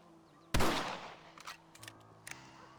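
A single sharp rifle shot from a western video game, loud and close, its broadband burst fading over about half a second, followed by a few faint clicks and small knocks.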